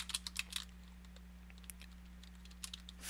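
A computer keyboard clicks in quick, light bursts at the start and again near the end, close and soft over a steady electrical hum.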